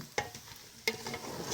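A spoon scrapes through beef stew thickened with flour in a pot, two sharp scraping strokes followed by a steady low bubbling simmer, close and fairly quiet with no talking.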